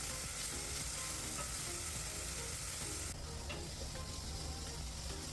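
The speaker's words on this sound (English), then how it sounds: "you can see just enough oil to get it coated and start sizzling" Food sautéing in a thin coating of oil in a pan, a loud, continuous crackling sizzle with some stirring scrapes, steady and close throughout.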